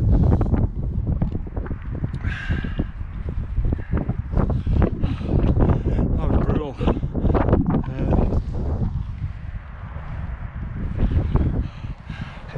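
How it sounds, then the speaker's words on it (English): Gusty wind buffets a jacket hood at the top of a hilltop climb on a mountain bike ride, loud and rough bursts of rumbling flutter that rise and fall in waves, with no talking. "The wind blowing against this hood."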